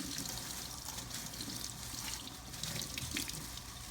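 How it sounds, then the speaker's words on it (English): Meat being rinsed under a running kitchen sink faucet, a steady hissing stream of water splashing continuously at close range with no speech. "Always rinse off your meat."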